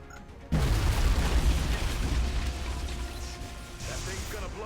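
A grenade goes off in the video game XCOM Enemy Within with the Long War mod: a sudden loud blast with a deep boom, then a rumbling tail that fades slowly over several seconds.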